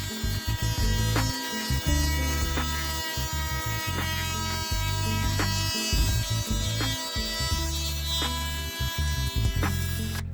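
A small USB-powered vacuum cleaner with a brush attachment runs loudly over a gaming keyboard, giving a steady motor buzz with a rattling, choppy low hum and frequent brief clicks and knocks as it moves across the keys.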